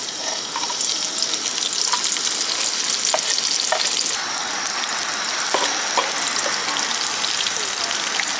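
Steady, bright sizzling of chopped spring onion and garlic frying in hot oil outdoors, with occasional small pops and crackles, close and continuous without any talking.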